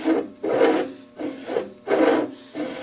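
A hand-fed, human-powered lathe takes very light cuts, giving a close, rhythmic rasping scrape in five even bursts about half a second apart, with short pauses between strokes and no talking.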